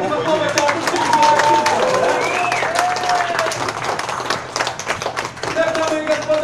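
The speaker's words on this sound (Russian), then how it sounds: "предлагаю еще разик насладиться вашими аплодисментами" Steady crowd clapping and applause on an evening outing at Karon Beach in Phuket, Thailand, dense and continuous throughout, with a voice and musical tones mixed in over the clapping.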